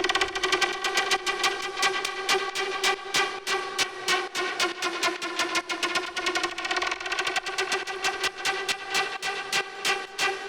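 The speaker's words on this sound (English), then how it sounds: "it's a sawtooth with some FM." A bright, buzzy sawtooth synth lead with FM plays rapid staccato notes in a steady rhythm for techno, with a harsh, metallic edge and no voices.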